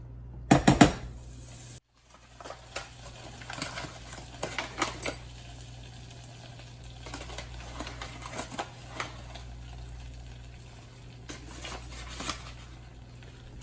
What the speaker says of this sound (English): You're going to want to stir this with a whisk right away and make a roux.